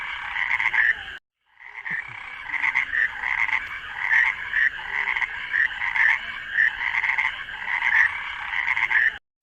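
Frogs croaking loudly near a swamp, a dense, continuous chorus of rhythmic croaks that pauses briefly near the start, then carries on close and strong.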